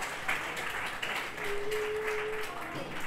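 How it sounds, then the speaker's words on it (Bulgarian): A crowd gives a round of applause for Grace, a steady, dense patter of many hands clapping at moderate volume throughout, with a faint tone running underneath. "let's give a round of applause for Grace for that"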